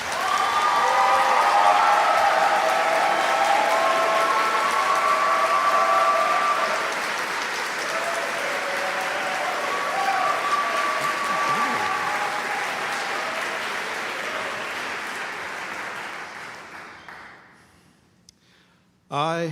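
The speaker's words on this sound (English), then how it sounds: "Please give them a round of applause for the work that they do." An audience at an opening convocation gives the faculty a sustained round of applause. The loud, dense clapping lasts about fifteen seconds, then thins out and dies away.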